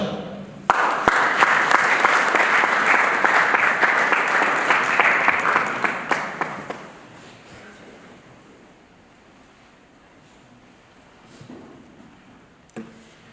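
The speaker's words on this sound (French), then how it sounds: "sous vos acclamations, j'appelle Yedija" Warm applause and acclamation from mourners at the funeral of Maman Sarah Nyombo Lofanga, a loud, full crowd clapping for about six seconds, then tapering into a quiet room with a few faint scattered sounds.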